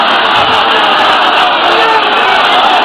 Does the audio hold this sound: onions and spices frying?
no